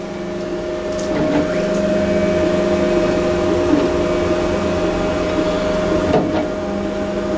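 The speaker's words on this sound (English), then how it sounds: "I think we're actually 3D printing something right now" A 3D printer printing a mount runs with a steady mechanical whir and hum, punctuated by short motor sweeps and clicks as the head moves, close and moderately loud.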